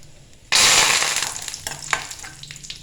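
Curry leaves drop into hot coconut oil with spluttered mustard seeds and two dried red chillies, bursting into a sudden loud sizzle that fades gradually, with scattered pops as the tempering continues.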